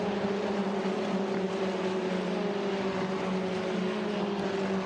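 Eurocup-3 single-seater race cars at the Jerez circuit produce a steady, continuous engine drone with a sustained tonal whine, heard from a distance and holding level without a distinct pass-by peak.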